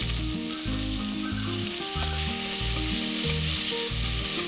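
Two medium onions, finely chopped, fry in a pan with ginger garlic paste for Kochi-style meat rice, giving a loud, steady, unbroken sizzle over a low melodic tone throughout.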